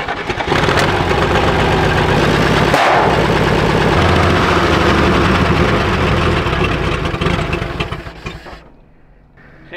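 A Chevrolet World War 2 truck that sat in a barn for decades runs steadily with a loud, close engine rumble while it is backed in, dropping away near the end.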